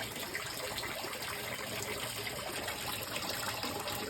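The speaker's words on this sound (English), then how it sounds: "We got water coming out there, and then at the top of the motor, still have water coming out." Water gushing from a Honda 150 outboard motor during a flush, a steady, fairly quiet splashing and trickling flow that continues without pause.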